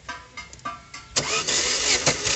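A 2005 Chevrolet Montana with a cylinder misfire cranks in several short rhythmic bursts, then catches and starts into a rough, loud running engine, close up with no talk.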